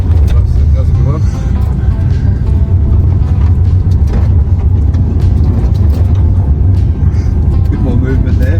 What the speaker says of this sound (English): I'm accelerating quick. See how we go around this corner.